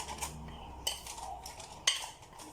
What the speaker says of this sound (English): I'm going to drop this into my pan here, my setting pan. And we're going to flatten this into our pan here.